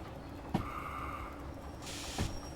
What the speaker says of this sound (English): That's the wipers, that scary noise